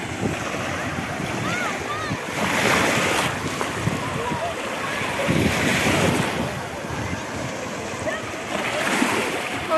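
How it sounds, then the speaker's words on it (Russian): Sea waves at Yeysk wash and break steadily, swelling in rhythm with strong wind rushing across the microphone; no clear voices. "Немного шум волн"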